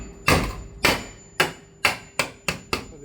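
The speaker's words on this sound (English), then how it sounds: "I always like to use a hammer to pierce the metal," A hammer strikes sheet metal roofing seven times to pierce holes for screws on a flyover patio carport, sharp ringing metallic blows, the first few slow and then coming faster, close and loud with no talking.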